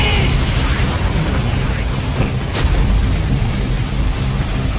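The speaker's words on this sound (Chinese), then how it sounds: "天雷召唤，大轰击！" In an animated fantasy battle, a summoned thunder attack crashes as one loud, continuous roaring blast that fills the whole stretch with dense rumble.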